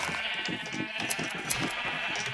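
Sheep in Minecraft bleat several times over a dense, steady background hum and hiss, with no voices.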